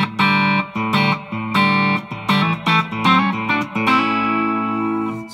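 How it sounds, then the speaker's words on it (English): Electric guitar chords through a Blackstar ID Core combo amp with reverb, played in a choppy rhythm, then a final chord left ringing with a reverberant tail; loud and close, no talking. "Let's add a reverb."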